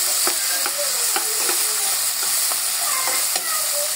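Finely shredded cabbage with fish tail and fresh peas fries in a pan, giving a constant loud sizzle broken by regular spatula scrapes and stirring knocks.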